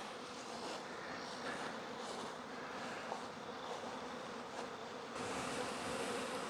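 Honeybees buzz around the hives in an apiary, a continuous, faint droning hum with individual bees passing closer at moments, steady throughout with no talking.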